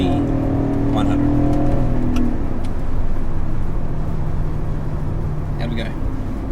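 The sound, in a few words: BMW E39 540i V8 sedan accelerating hard during 0-100 km/h test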